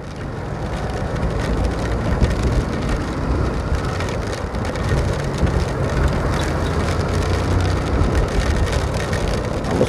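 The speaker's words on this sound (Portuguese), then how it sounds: "Vamos parar um pouco ali na frente para estiar a chuva, esperar a chuva passar para nós chegar na praia" Rain falls steadily in the rain near the beach at Ponta Negra, Natal, a loud, dense wash of hiss and patter mixed with low rumbling road noise, with no voices.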